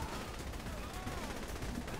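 Gunfire in the video game Saints Row 3 rattles as quiet, rapid bursts of shots under a low background mix.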